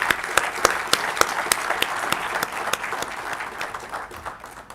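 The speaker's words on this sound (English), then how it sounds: "a very big applause for all the students who are graduating today" Applause for graduating students at a university campus convocation ceremony: a steady wash of many hands clapping, with sharp individual claps standing out, loud at first and slowly easing off.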